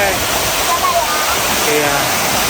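Sumuran waterfall at Telomoyo pours in a steady, loud broadband roar of falling water that fills the whole stretch, close and continuous, with faint voices underneath.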